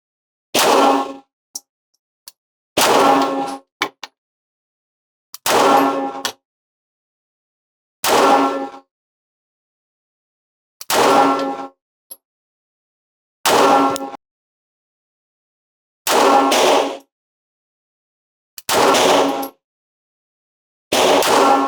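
Nine sharp pistol shots fired one at a time with full metal jacket practice rounds at an 8-inch target about 7 yards away, loud and evenly spaced roughly every two to three seconds with silence between.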